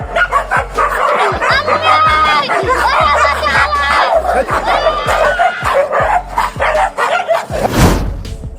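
A dog barks repeatedly and rapidly at a would-be thief, loud and close in a steady volley of yips with a brief whimper, while people's voices and a crowd murmur sound underneath.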